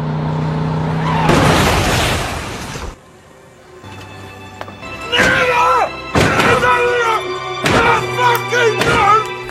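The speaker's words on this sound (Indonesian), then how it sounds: "Chris menabrak mobil mereka" One car crashes into another in a movie scene, a loud burst of impact and crunching noise followed by thuds and slams, with voices and other scene sounds around it.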